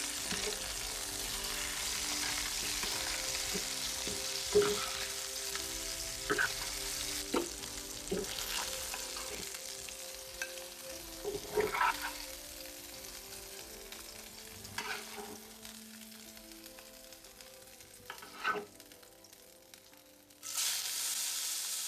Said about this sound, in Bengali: মাছটা ভালো করে ভেজে নিচ্ছি, একটু হালকা লাল লাল করে ভেজে নেব